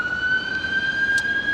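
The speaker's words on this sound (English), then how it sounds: "I'm really sorry for the siren." An ambulance siren passes on a road, a loud steady electronic wail with a slowly climbing pitch that holds for the whole moment, with no talking.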